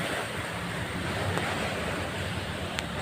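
Surf rolls continuously onto a beach at Majene in West Sulawesi, a dense, steady wash of breaking waves with wind buffeting the microphone throughout and no voices.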